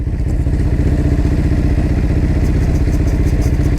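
A Ducati Hyperstrada 939 motorcycle rolls in close by, its engine running loud and steady with a low rhythmic throb and some mechanical clatter throughout.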